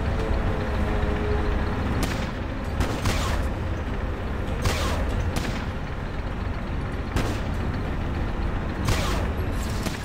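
Gunfire in the Fallout Tactics video game: sharp shots and bursts crack out at irregular intervals over a dense, continuous rumble of battle noise.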